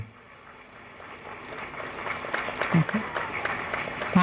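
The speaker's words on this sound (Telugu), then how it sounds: "ఆపేయమని చప్పట్లు కొడుతున్నారు కాబోలు" Audience applause at a school speech event, clapping building gradually from faint to a fuller crowd sound, with a voice speaking over it.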